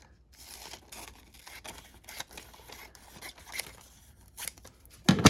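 Scissors snip around letters in a magazine page, producing a string of close, crisp cuts and rustling paper, ending in a louder crinkle.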